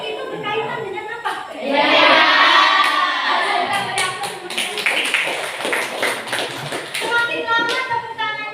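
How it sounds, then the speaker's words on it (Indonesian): Schoolchildren in an Indonesian classroom clap their hands in a quick, rhythmic pattern that builds and repeats, mixed with loud children's voices and chatter in the room. "Semakin lama tepuk tangannya semakin loyal."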